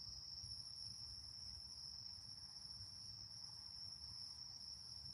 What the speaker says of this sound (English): Crickets are still chirping